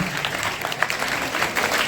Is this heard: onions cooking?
no